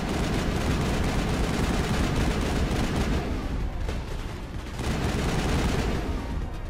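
A firefight in Mass Effect brings dense, continuous gunfire: rapid bursts of shots and booming impacts overlap loudly without a break, and the intensity dips briefly midway before returning.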